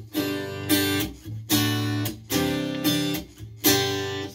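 Godin Ultra A6 acoustic-electric guitar with its mid-range EQ boosted, strummed in a steady rhythm of full, loud chords, each ringing briefly before the next strum. No voice is heard.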